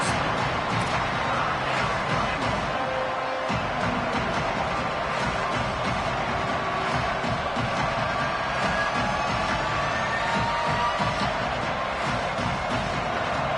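At a Sooners football game, a stadium crowd keeps up a dense, continuous roar of cheering with faint whistles through it, loud and unbroken for the whole stretch.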